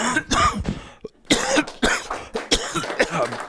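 A man coughs repeatedly in a lecture setting on Christianity and literature, several harsh bursts in an irregular run across the clip, close and loud, with no speech.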